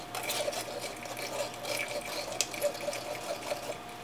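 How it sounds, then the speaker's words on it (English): Water pours steadily into a pitcher of strained passion fruit and mint drink, a continuous close splashing stream that runs the whole time with no talking over it. "And now I'm going to add the water."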